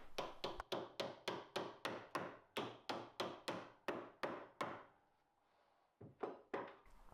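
Oak dowels, 75 mm long, tapped into glued wooden pieces: a fast run of about twenty sharp, ringing wooden knocks, loud and close, then a short pause and a few more taps.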